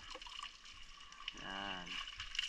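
Water poured over people rinsing off salty seawater after a motorbike ride, a brief gushing splash rising in the middle, fairly quiet amid faint background voices.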